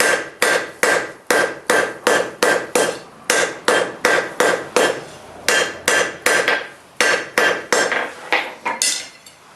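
Hammer blows draw hot steel into a long poker taper on an anvil, about two dozen loud ringing strikes close by in a steady, even rhythm, with brief pauses between groups of blows.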